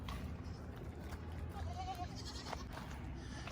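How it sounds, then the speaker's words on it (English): A group of baby goats bleats in the background on a family farm, the faint calls mixing with general outdoor noise. "that noisy bunch over there is my baby goats"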